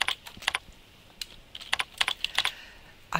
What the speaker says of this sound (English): I type in the name of the rep.